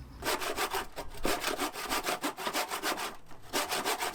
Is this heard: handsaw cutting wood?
yes